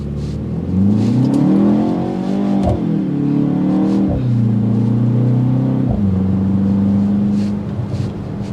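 2024 BMW X1 M35i accelerating from 0 to 60, the engine rising in pitch through several gear shifts with brief dips between gears, loud and steady from inside the cabin.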